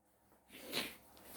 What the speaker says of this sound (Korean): 제가 약간의 한기만 느끼면 재채기를 해요